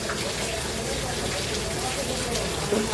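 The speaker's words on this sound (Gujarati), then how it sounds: "સવારે જો બપોર લગી વરસાદ હતો નહીં બપોર બે વાગ્યાનો શરૂ થયો છે જો બંધ થવાનું નામ લેતો ને" Steady rain falls continuously during a downpour at a family home in Gujarat, a dense, even wash of patter close by throughout, with a faint voice briefly under it.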